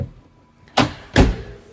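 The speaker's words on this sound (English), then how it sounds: "Double access fridge door." A double-access fridge door in a campervan opens with two quick knocking clunks about half a second apart, close and fairly loud in an otherwise quiet space.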